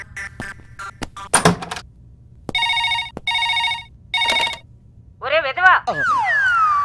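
An electronic telephone ring repeats in short bursts, preceded by clattering clicks and followed by warbling electronic tones.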